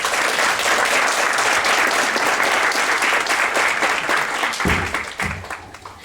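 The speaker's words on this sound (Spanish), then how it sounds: "Un aplauso para ellos." Strong, dense applause from an audience at an academic talk on men in feminism, loud and sustained for several seconds before tapering off near the end.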